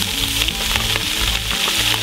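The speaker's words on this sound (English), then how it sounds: "we're just gonna kinda saute all of this in the bottom of our Dutch oven" Onions, bell peppers and celery sizzle steadily in the bottom of a Dutch oven over a campfire for jambalaya, a close, continuous frying hiss with faint scraping of stirring and no talk.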